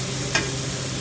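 Ground beef browns in a hot pan with a steady, close hiss of frying and one brief scrape of stirring.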